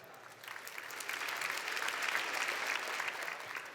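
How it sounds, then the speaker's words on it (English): A room of people at a science pitching competition applauds a jury member, a soft, even patter of many hands that swells after a moment and holds steady at a fairly quiet level. "Let's give a round of applause to Anne."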